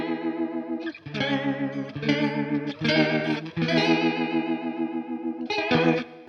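Guitar through a FLAMMA modulation pedal set to full depth, its chords wavering with a deep, wobbling pitch shimmer, strummed in several loud, sustained phrases with short breaks.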